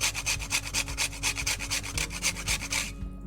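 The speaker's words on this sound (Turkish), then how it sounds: "Kremayı ekledikten sonra ufak bir muskatın çok çok azını rendeleyeceğim içine." Nutmeg is grated on a small grater in quick, rhythmic rasping strokes, about a dozen scrapes in steady succession, close and clear, with no talking.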